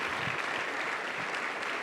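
Church congregation at a Sunday sermon claps warmly for the King of Kings, a dense, steady round of applause filling the room.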